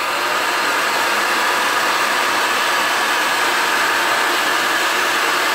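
A pipe threading machine cuts threads on an LCS pipe, producing a steady loud broadband whirring hum that continues unbroken and close throughout.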